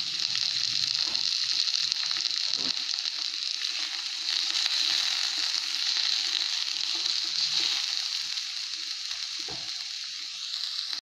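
Onions and leeks sizzle with carrots in a pan, a constant close frying hiss with occasional soft scrapes and a brief cut at the very end.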